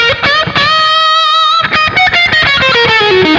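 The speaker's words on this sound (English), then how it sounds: "If I expand the delay and switch it on." An electric guitar through the S-Gear 3 amp simulator plugin with delay on plays sustained notes that echo and repeat as they fade, a bright distorted tone with lingering trails between phrases.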